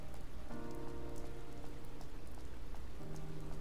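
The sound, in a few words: rain falling on a rooftop in the video game Blue Reflection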